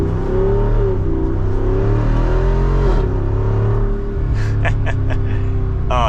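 A 2024 Jeep Wrangler 392 Rubicon Final Edition revs its big engine while driving, with a loud, close exhaust note that rises and falls twice, then ends in a run of sharp crackles and pops on the overrun.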